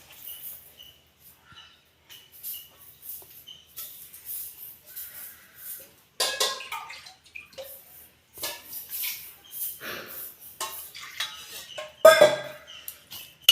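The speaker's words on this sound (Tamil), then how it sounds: "இப்போ இது கூட நான் கொஞ்சம் தண்ணி சேர்க்க போகிறேன்" Water poured into rava idli batter in a bowl and stirred with a spoon, giving soft wet sloshing and intermittent light clinks of metal against the dish, close and quiet, with brief louder scrapes.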